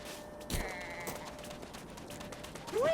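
Sheep bleating in the video game Super Mario Odyssey, a few short cries over a steady game soundtrack, with a rising wavering call near the end.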